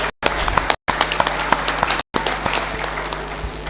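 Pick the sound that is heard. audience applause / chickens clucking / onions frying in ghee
audience applause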